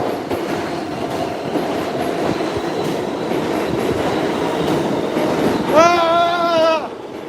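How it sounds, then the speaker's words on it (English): A New York City subway train arrives at a Manhattan station with a loud rumbling roar and rattling wheels, then a rising, wavering tone sounds near the end, with no clear talk over it. "Good, train's coming. Let's get on."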